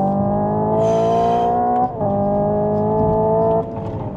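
A Hyundai Ioniq 5 N electric car accelerates hard with a loud, steady synthetic engine-like tone that steps up sharply in pitch twice, like gear shifts, heard close with no talk.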